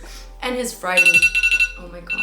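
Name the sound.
alarm going off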